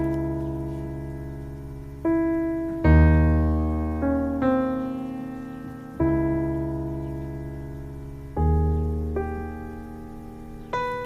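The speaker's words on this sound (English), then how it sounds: "So let's just hear just a dry piano." Dry, unprocessed piano in Reason software, sustained notes and chords entering every second or two, close and clear with natural decay and no echo.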